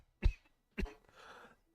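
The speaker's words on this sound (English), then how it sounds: "Coughing into the microphone. It was muffled." Two short, muffled coughs land close into a covered microphone about half a second apart, followed by a soft breathy rustle, quiet and without speech.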